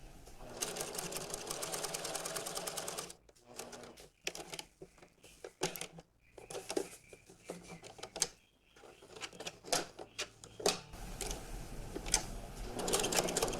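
Sewing machine top stitching around a waistcoat in bursts, a rapid mechanical whir that runs steadily and then stops and starts in short spurts while the fabric is turned.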